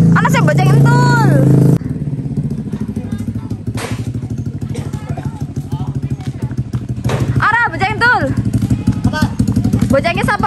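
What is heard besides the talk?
motorcycle engine starting and idling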